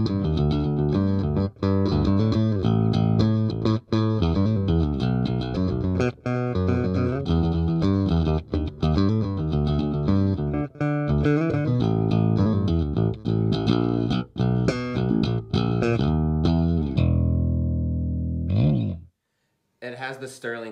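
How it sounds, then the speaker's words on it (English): A Sterling StingRay electric bass with a humbucker pickup plays a loud, continuous line of dense, punchy notes with effects-like grit, running steadily before cutting out briefly near the end. "The Stingray humbucker sound."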